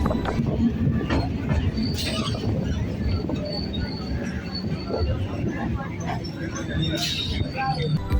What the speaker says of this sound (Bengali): আমাদের ট্রেনটা এই মুহূর্তে ঢুকলো আকরা স্টেশনে